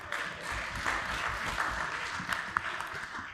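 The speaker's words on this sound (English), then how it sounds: "I deserve a clap." Applause from a conference audience at a Uganda budget review meeting, a steady broadband patter of many hands clapping for about three seconds at moderate distance, with faint voices underneath.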